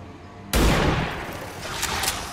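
A sudden loud burst of gunfire erupts in the XCOM 2 video game, a sharp, heavy blast followed by a rattling, decaying volley and a couple of smaller crackling shots near the end.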